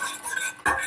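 Sugar being stirred as it melts in a thick-bottomed saucepan just taken off the heat, with close scraping and light clinks of a utensil against the pan, and a sharper knock near the end.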